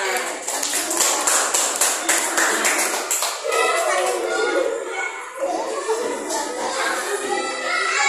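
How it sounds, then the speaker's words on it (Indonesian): Fourth-grade students in a classroom clap in a quick burst of applause, the sharp claps close and lively, with children's voices and chatter running through it. "Oke, tepuk tangan"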